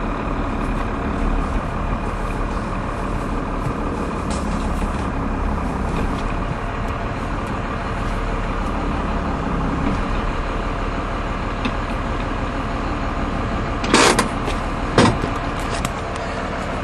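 A 1996 Dodge Ram 2500 Cummins diesel pickup with a 5-speed manual idles steadily in reverse at close range, a continuous low rumble, with a couple of brief sharp clicks near the end.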